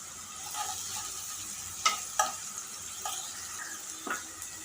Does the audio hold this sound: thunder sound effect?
no